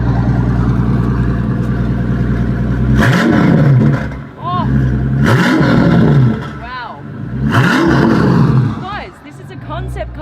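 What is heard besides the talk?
Maybach Exelero concept car engine revving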